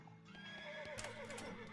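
A horse neighs and whinnies in the West of Loathing video game, a loud, continuous whinny with rising and falling tones over soft clip-clop hoofbeats, with no talking.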